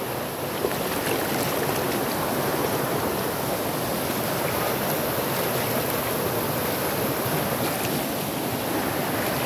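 Water rushes steadily along Lajedo creek in Barra do Garças, Mato Grosso, a continuous loud broadband roar of flowing stream with no talking.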